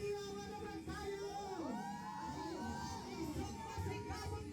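An excited crowd keeps up sustained cheering and shrill shouting for Barbie Forteza at a live fan event, with whoops swelling above a dense, constant roar of voices.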